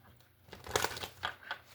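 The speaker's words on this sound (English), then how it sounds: "let's do 3 shuffles and get to it" Tarot cards being shuffled by hand give a few short papery riffles in quick succession, close up and fairly quiet.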